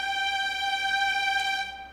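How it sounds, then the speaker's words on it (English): A string sample of sixteen first violins holds a single sustained note, smooth and steady for nearly two seconds before it fades slightly at the end. There is no talk over it. "So is this the sound of 16 first violins?"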